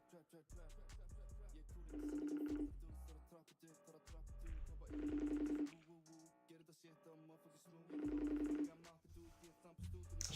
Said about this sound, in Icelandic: En þá ringjum við í Aron Mólásson